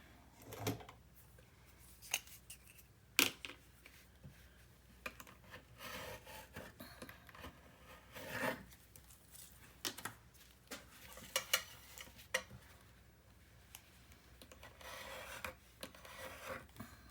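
Paper corners of a 9 x 9 mini album being mitered, giving scattered soft rubbing, scraping and tapping sounds with a few sharper clicks, fairly faint and close, with no talking.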